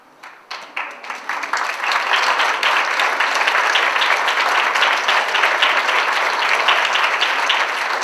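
Audience at a University of Louisville honors event applauding graduates' families and friends, starting with a few scattered claps that quickly swell into loud, dense, sustained applause.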